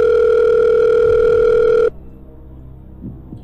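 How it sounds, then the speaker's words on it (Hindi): A loud, steady telephone dial tone sounds as a call is placed, then cuts off abruptly to near silence with a faint click or two. "तो अभी सिक्किम के चीफ मिनिस्टर पीएस तामाङ जी को कॉल लगा जाए प्लीज"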